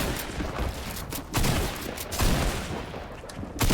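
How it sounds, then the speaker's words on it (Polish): Rapid video game gunfire in a third-person shooter match, a dense run of sharp overlapping shots and bursts at steady loudness with no voices. "No jakiś kolejny tu strzela."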